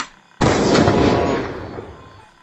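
One sharp, loud SVD rifle shot in the shooter game Free Fire cracks suddenly and is followed by a booming tail that decays over about two seconds, heard alone.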